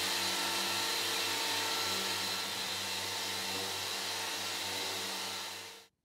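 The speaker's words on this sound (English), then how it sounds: "The epoxy is easy to sand and can be removed quickly with an average orbital disc sander." An orbital disc sander running steadily on cured epoxy in a woodworking shop, a loud constant motor whir with a gritty abrasive hiss that cuts off abruptly at the end.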